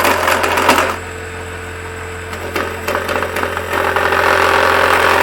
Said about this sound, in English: with the spindle gouge, I'm going to come in and just kind of hollow out